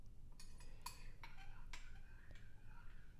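Spoon clinking and scraping in a bowl while chia seeds are stirred into almond milk, a few light metallic taps and swirls close by over a low background hum.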